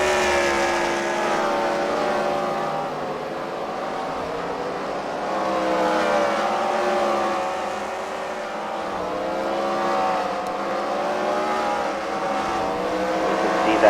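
Several race car engines drone continuously as they circle a track, pitch rising and falling with distant commentary faintly underneath.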